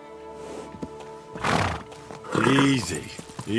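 A horse in the medieval game Kingdom Come: Deliverance II snorts and then gives a loud, wavering whinny close by, with soft hoof clops, while someone speaks calmly over it.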